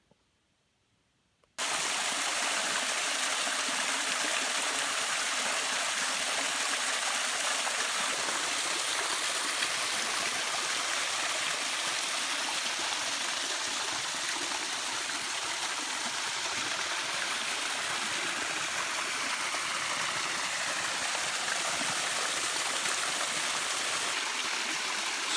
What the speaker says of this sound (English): So these interior woodland waterfalls, they're a lot different, obviously, than the 50, 60, 70 foot cascading style